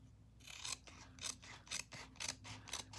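Scissors snip through dried embossed tissue paper in a run of about six crisp, close cuts, each a short bright rasp with brief pauses between and a low steady hum underneath.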